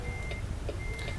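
Steady reversing beeps from a truck backing a trailer in American Truck Simulator, repeating under a constant engine rumble, with no talk.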